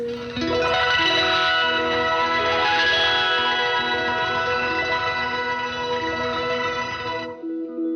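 An electric guitar plays sustained chords through EarthQuaker Devices distortion and overdrive pedals, thick and saturated, ringing out before cutting off abruptly.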